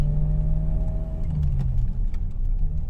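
Engine of a BMW 325i E30 pulling away from a standstill, a deep continuous rumble with steady low harmonics that rises slightly in pitch, close and loud inside the car, with no talk over it.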